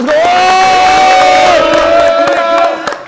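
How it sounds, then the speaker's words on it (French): A loud crowd at a trampoline dunk contest roars and cheers together with sustained shouting that swells and holds, then trails off into scattered whoops near the end. "Un maximum de bruit pour Kefren"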